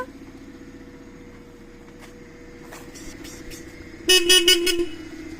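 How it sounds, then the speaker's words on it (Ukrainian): A car horn honks in several short, loud blasts near the end as the car pulls away, over low engine and road rumble with a few faint knocks earlier. "Посігнали ж, да?"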